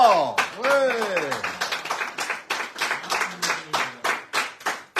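Scattered clapping, fairly close and uneven, rings out while a voice speaks and laughs over it.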